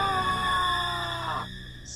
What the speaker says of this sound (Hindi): मैं डर के मारे चिल्ला उठा,